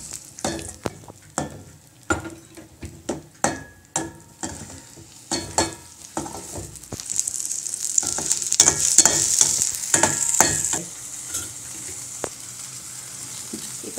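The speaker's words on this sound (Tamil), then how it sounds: "கொஞ்சமாக மஞ்சத்தூள் போட்டு வதக்கணும்." Coconut paste with turmeric being sautéed in a pan for buttermilk curry, a steady sizzle with repeated scraping stir strokes of a spoon, close and moderately quiet, no voices.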